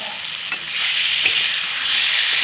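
Small potatoes and spices frying in oil in a pan for a potato and fish curry give a loud, steady sizzle with faint stirring scrapes and no talking.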